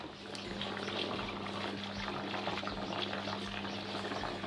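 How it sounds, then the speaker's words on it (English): An electric pump at the bottom of a well at a Spanish farmhouse pushes water out of a pipe: a constant motor hum beneath continuous, close splashing flow. "If we plug that in, you will hear the pumping of water."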